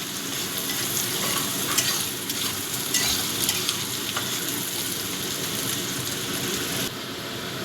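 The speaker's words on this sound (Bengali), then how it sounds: "এবার পেঁয়াজটা একটু ভাজা ভাজা করব" Onions fry in a hot pan, giving a steady, close-up crackling sizzle that continues without a break and with no talking.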